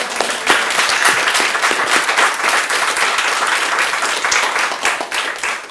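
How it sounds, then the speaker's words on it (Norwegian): An audience at a Norwegian panel event on antisemitism and hostility toward Muslims claps loudly. The applause is close, dense and sustained, with no break for the whole stretch. "Det er jo verdt en applaus"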